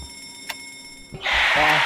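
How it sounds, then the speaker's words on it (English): An alarm rings in the Backrooms video game, a loud bright electronic clanging that bursts in after a couple of faint clicks and holds steadily to the end. "try to get the alarms ringing at all times"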